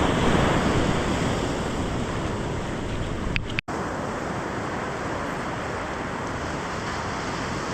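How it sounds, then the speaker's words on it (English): Large Pacific ocean waves break on the shore in a steady, loud wash of surf and foam, with a brief dropout near the middle and wind buffeting the microphone. "That was a big wave."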